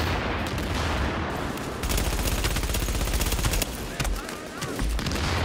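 Dense gunfire from The Division video game in Dark Zone PvP combat, with rapid automatic bursts and overlapping shots sounding loud and continuous for several seconds, with players talking underneath.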